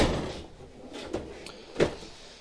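Toolbox drawer in a small engine mechanic's workshop sliding open or shut: a muffled rolling rumble with two distinct clunks, the second louder, close by and with no one talking.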